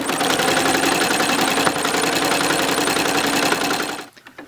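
Sewing machine running steadily for about four seconds while stitching a picnic quilt, a loud dense mechanical whir with rapid needle rhythm that stops abruptly near the end, no talk.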